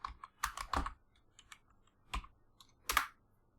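Java code being typed on a computer keyboard, with scattered bursts of close, light key clicks separated by short quiet pauses.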